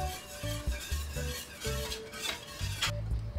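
A spoon stirs an eggnog mixture laced with vanilla extract and rum, making soft, quiet scrapes and light clinks against the container in uneven strokes.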